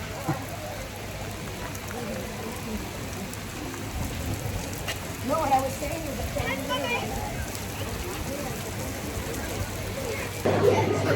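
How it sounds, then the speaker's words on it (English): Steady rain falls on Edinburgh's Castle Rock as a constant hiss, with faint voices and footsteps mixed into the wet outdoor background. "It keeps raining."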